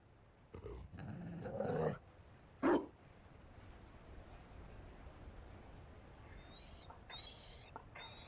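A Mabari war dog in Dragon Age: Inquisition gives a couple of growling, barking bursts in quick succession, then quieter game ambience with faint chirps.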